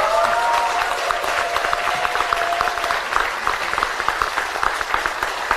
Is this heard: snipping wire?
no